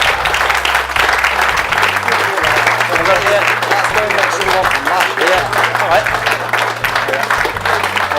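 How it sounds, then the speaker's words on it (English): At an outdoor carp fishing charity event, a crowd gives loud, sustained applause with dense clapping, while voices talk over it and a low background hum runs underneath. "give them a big round of applause."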